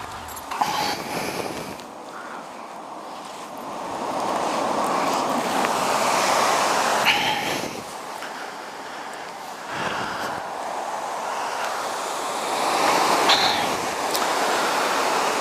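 River Lune rushing below Lunes Bridge near Tebay, a broad continuous roar of flowing water that swells and eases, with some wind buffeting the microphone.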